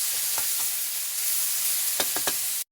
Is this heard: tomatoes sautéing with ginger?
yes